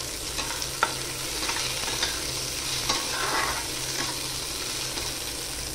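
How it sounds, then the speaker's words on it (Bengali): Soaked cashews and raisins fry in a little ghee in a kadai, giving a soft, constant sizzle with occasional light stirring clicks and scrapes up close. "এখানে কিছুটা পরিমাণ কাজু এবং কিশমিশ আমি ভিজিয়ে রেখেছিলাম। এটা এবার আমি সামান্য ঘি দিয়ে ভেজে নেব।"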